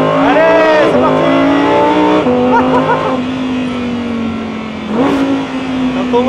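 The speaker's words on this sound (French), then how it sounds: "XGT de chez Abt, une vraie GT2 sur route" An Abt XGT, a road-going GT2 race car, accelerates hard, its engine rising in pitch through several gear changes with brief dips between shifts, loud and close from inside the car, with a voice heard in the background.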